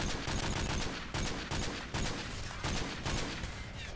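Call of Duty MW3 gunfire in a Domination match on the Decommission map: rapid, loud bursts of automatic fire with sharp individual shots and short pauses, alone with no talk.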